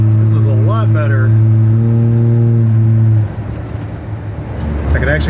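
A Pontiac LeMans fitted with new springs pulls away, its engine revving loudly for a few seconds before easing into a lower road rumble, with in-car voices over it.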